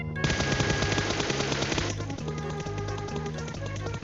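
Rapid automatic gunfire rattles in a PUBG Mobile match, a dense burst at the start followed by a steady stream of quick shots continuing close and loud to the end.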